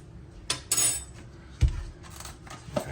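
A metal spoon grabbed from a small kitchen pantry while making a microwave chocolate chip cookie, giving a few brief close clinks and knocks with a rattle of utensils, no talk.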